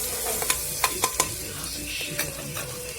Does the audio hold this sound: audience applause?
no